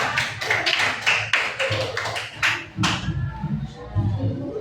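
Students in a classroom lesson on artificial intelligence clap for a group, a few scattered, uneven claps that thin out and give way to voices talking.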